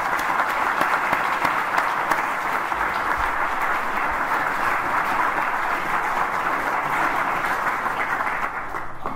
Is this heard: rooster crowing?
no